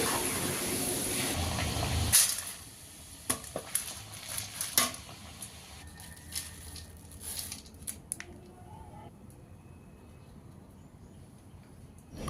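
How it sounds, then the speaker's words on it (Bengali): Chana dal fries in hot oil for a crunchy snack, giving a loud, dense hiss at first that drops to a quieter sizzle broken by scattered crackles and clinks. "তো এইভাবে আমি সবগুলো ডাল বেজে নিয়ে ফিরে আসছি"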